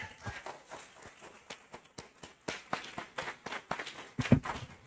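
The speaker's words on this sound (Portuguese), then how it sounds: "Aplauda o rei." A church congregation claps along during praise music at a worship service, with irregular, uneven hand claps in loose rhythmic bursts, fairly close and not loud.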